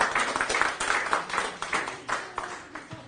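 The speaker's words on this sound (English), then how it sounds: "A rousing round of applause for the panel." A small audience claps for a panel after a prostate cancer awareness discussion, with a quiet, fairly sparse patter of hands in loose rhythm over about three seconds.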